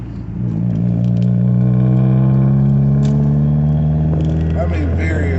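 A car engine drones steadily at close range while driving, its pitch holding level and then climbing slightly as it revs near the end.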